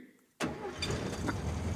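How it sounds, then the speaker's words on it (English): A car engine in a radio drama sound effect turns over and catches abruptly after a short quiet moment, then runs on in a rough, steady idle, close and moderately loud, with no voices. "The starter in my car won't even turn the motor over."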